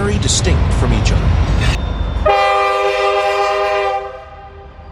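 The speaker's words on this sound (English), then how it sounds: "The first one has a high-pitched air horn compared to the multi-air horn." A high-pitched railroad air horn on a passing train blasts loudly and steadily for about two seconds, following rumbling train noise and a shorter horn note, then fades out.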